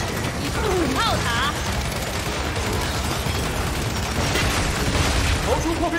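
Turret gunfire and explosions in the Gears 5 video game, a dense continuous barrage of booms and rattling fire with brief shouted voices over the din.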